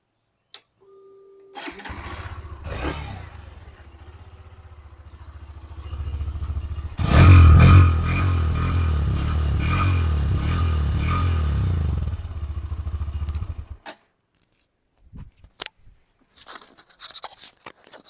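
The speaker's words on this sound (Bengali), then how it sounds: "শুনলেন বাইকটার এক্সস্টের আওয়াজ" A Hero Xtreme 125R motorcycle's exhaust roars to life after some light clatter, runs loud and steady for about five seconds close by, then cuts off, followed by scattered faint knocks.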